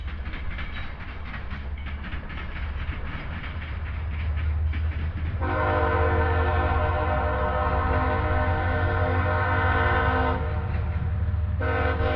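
Freight train M209 passing at Cordele, Georgia, a steady loud rumble of cars rolling by, joined by a sustained multi-tone horn blast that holds for several seconds, cuts out and then returns near the end.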